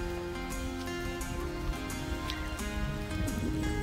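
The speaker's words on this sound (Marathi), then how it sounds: "खूप पाऊस चालू आहे कालपासनं" Heavy rain falls steadily outside at a Scottish campsite with tents, a constant wash of drops that stays even throughout.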